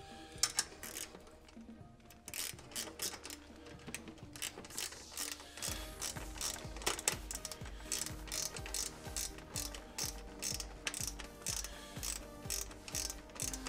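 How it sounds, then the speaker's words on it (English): Wrench ratcheting as it tightens the clamps on an X3-17-FS-L speaker pod, a quick run of sharp mechanical clicks repeating in steady bursts, close and fairly loud, with no voices. "Actually, a wrench works best in there."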